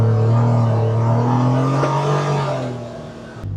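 The engine of a 2025 Polaris Ranger 1500 side-by-side labours up a steep hill with its wheels spinning, giving a loud, close, sustained drone that rises slightly in pitch and then eases off before cutting out abruptly.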